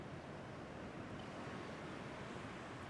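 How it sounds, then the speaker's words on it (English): Ocean surf roars in a steady, continuous wash, with wind noise mixed in at a campsite in rainy weather; the sound is dense and unbroken throughout, and no one speaks. "just chill to the sound of the ocean"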